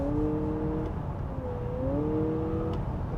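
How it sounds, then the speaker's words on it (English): Synthetic engine tone piped into the cabin of a 2023 Honda Accord in sport mode, a faint steady hum with gliding pitch changes like virtual gear shifts, heard over low road noise. "there's actually fake engine noise being pumped into the cabin as well"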